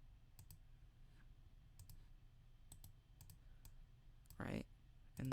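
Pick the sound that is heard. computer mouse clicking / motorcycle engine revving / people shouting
computer mouse clicking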